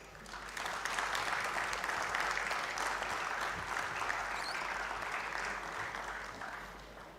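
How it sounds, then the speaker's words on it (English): A large crowd applauds competitors at a university robotics competition in Sri Lanka, a sustained, even wash of clapping that holds steady, somewhat distant, for the whole stretch. "let's have one more massive round of applause for all our competitors"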